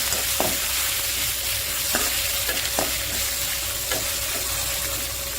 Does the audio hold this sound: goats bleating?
no